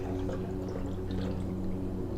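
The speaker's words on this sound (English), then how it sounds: "I'm going to get going here, pouring my water." Water pouring steadily into a glass bottle, a short continuous gurgling stream with a rising hollow tone.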